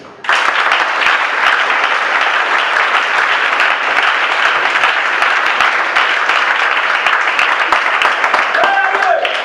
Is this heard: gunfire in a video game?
no